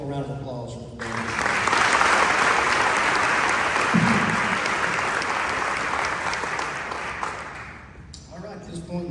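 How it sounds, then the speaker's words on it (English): Audience applause at the Wilson County Teacher of the Year ceremony, a loud, sustained round of clapping from a full room that swells quickly, holds steady for several seconds, then tapers off, with talk at the start and end. "One more round of applause for Danny."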